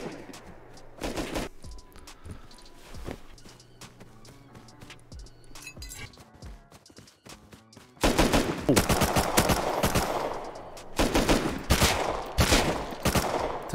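Gunfire in a video game at an abandoned military base, scattered single shots at first, then dense rapid bursts of loud firing in the second half.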